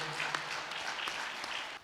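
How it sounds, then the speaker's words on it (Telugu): An audience claps steadily to honour project workers at a Pyramid Masters gathering in Mathura. The sound is a dense, even patter with a few sharper claps standing out, and it drops off abruptly at the end. "వాళ్ళకి గట్టిగా చప్పట్లు కొడదాం."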